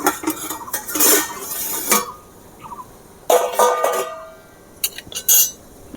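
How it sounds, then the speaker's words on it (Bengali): A lid comes off a momo steamer pot with metal clanks and scrapes, followed by light clatter and a hiss of escaping steam, close by and without speech. "এবারে আমি ঢাকাটা খুলে দেখব।"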